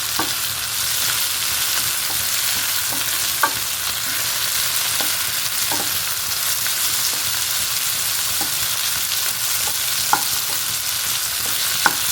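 Soya masala frying in a pan, a continuous loud sizzle broken by occasional light spatula taps and scrapes as it is stirred, with no voices.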